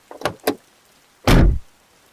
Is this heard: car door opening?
yes